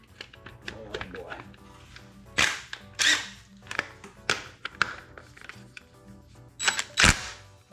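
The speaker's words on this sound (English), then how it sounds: "There's a small impact wrench here." Small impact wrench rattling crusty nuts loose on a seized 1600cc VW Bug engine, sharp staccato bursts scattered through the clip with quieter clanks and handling noise between them, up close.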